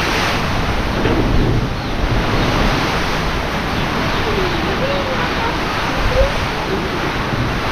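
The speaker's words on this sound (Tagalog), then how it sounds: "Grabe hangin, parang hinalukay oh." Strong typhoon wind roaring steadily and loudly without pause, a dense broadband rush with gusting swells, heard outdoors where storm-felled banana trees lie nearby.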